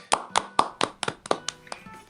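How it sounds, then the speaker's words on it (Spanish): A handful of close, crisp hand claps welcome Pastor David on a podcast, about nine distinct, evenly spaced slaps that thin out toward the end. "Un aplauso para Pastor David."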